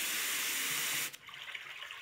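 Flowing water setting on an AVANTEK white noise machine, a steady dense hiss of running water that plays loudly for about a second and then drops to a quieter, softer wash.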